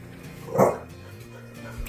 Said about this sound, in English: So my dog is crazy barking.